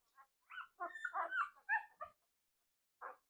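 Large bully-breed puppies whimpering and yipping in short high whines and squeaky yelps, close and fairly quiet, with a final lone whimper after a pause.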